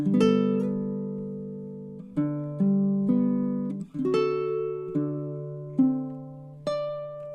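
Measures 7 and 8 of a song on a baritone ukulele: a sequence of warm, softly strummed chords at a relaxed even tempo, each ringing out clearly up close with no talking.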